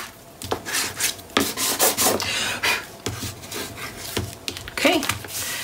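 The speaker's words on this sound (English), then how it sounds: "Let's open it up and burnish everything in place." A burnishing tool rubs paper pieces into place on a Stamperia Little Girl craft project in repeated close scraping strokes, some short and some drawn out, with faint breathing between them.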